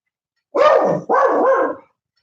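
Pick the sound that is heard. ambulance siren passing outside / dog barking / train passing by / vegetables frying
dog barking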